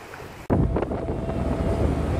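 Steady rumbling engine drone and wind buffeting from a ferry at sea bound for Portsmouth, starting abruptly after a short quieter moment and continuing loud and constant.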